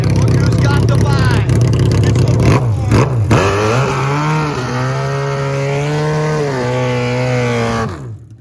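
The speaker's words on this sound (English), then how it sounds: "Gotta love the sound of this bike." A drag racing motorcycle with Bullhorn Zoomies exhaust revving loudly and close, a harsh raspy engine note that rises and falls before settling into a sustained high rev and cutting off.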